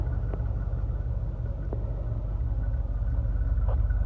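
A 1993 Range Rover Classic LWB engine idling, a steady low rumbling drone held close and even throughout, with a few faint ticks on top.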